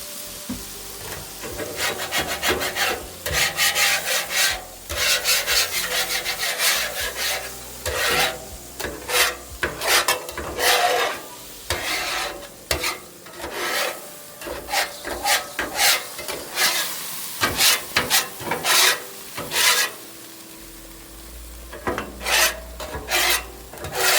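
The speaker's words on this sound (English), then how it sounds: "Okay, so I got the food scraped." Food scraps being scraped off cookware, with continuous rough rasping and rubbing strokes, loud and close, repeating in quick irregular bursts with no talking.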